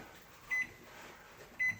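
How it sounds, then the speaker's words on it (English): Two short, clear electronic beeps about a second apart from a kitchen timer being set for eight minutes, over a quiet room hum. "then we'll set our timer for 8 minutes."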